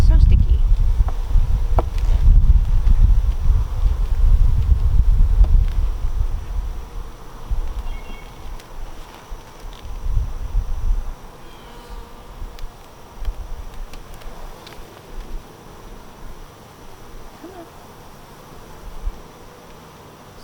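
Honeybees swarm around an open hive during an inspection, a steady, close insect drone lasting throughout, with heavy rumbling handling noise early on that fades to a thinner buzz.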